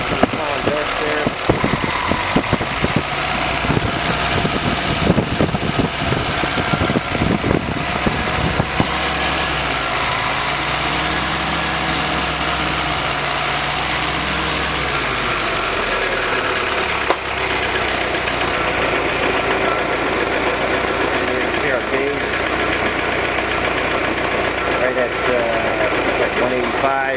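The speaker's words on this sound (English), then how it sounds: "The Weber is idling nicely" A Willys F-head engine fitted with a Weber carburetor idles steadily and evenly at close range, a continuous loud mechanical drone with some rattling early on.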